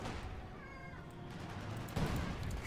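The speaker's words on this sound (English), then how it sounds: "I do apologize for my cat meowing in the background." Pet cat meowing in a room during a Company of Heroes 2 game broadcast, a couple of drawn-out meows heard faintly under loud in-game gunfire and battle noise.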